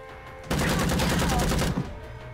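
A Tommy-gun style burst of gunfire in Empire of Sin, a loud rapid volley of shots lasting over a second, then a quick tail-off into quiet game ambience.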